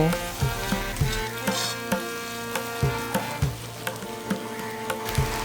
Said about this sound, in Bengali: এই লবণ হলুদটাকে মশলার সঙ্গে ভালো মতো মিশিয়ে নিয়ে কিছুক্ষণ কষিয়ে নেব